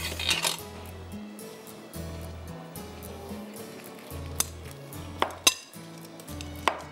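A spoon scrapes and clanks against a metal pot while mutton is stirred and coated in sauce, with rhythmic scraping and several sharp metallic clinks close by.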